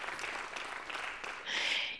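An audience at the closing session of an education conference claps for the interpreters, a soft, steady patter of hands that swells slightly toward the end.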